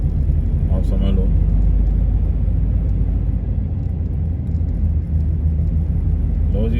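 Steady car traffic rumbles through a long road tunnel in Auckland on a holiday, a continuous loud drone of engines and tyres echoing close around with no break.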